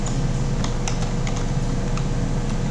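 Rapid, uneven clicking of keys on a computer keyboard during a Python programming class, steady and close, with no talking.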